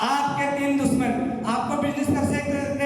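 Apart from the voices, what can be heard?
None of the usual background noises is heard.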